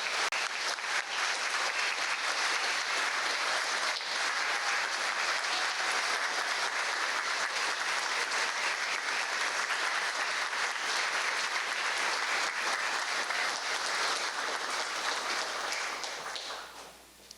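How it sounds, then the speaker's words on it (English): Sustained applause at an awards ceremony for an honored sanitation worker, a dense crowd clapping steadily and loudly for over fifteen seconds before tapering off at the end. "please join me in honoring sanitation worker Elpidio Arias."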